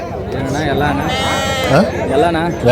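Sheep bleat repeatedly at the Amingad sheep and goat market in Karnataka, several wavering cries close by amid a busy crowd, with people talking over them throughout.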